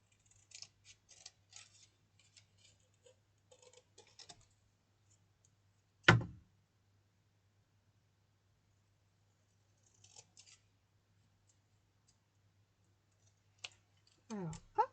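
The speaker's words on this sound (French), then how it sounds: "je vais prendre les autres ciseaux parce qu'ils sont plus pratiques pour moi." Paper being snipped with scissors for a Stampin' Up citrus accordion card, a quiet scattering of small close clicks and cuts with a louder thump midway, separated by near silence.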